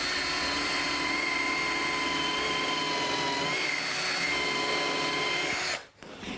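Bosch power drill driving screws into wood for a chicken coop frame, a continuous close whining motor hum holding steady for several seconds before cutting off abruptly near the end.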